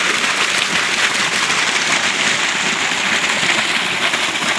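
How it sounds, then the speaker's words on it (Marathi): Water from a solar-powered motor's pipe pours at a farm well, a loud, continuous broadband rush of gushing water heard close and unbroken throughout. "मस्तपैकी दांडानं पाणी चालू आहे."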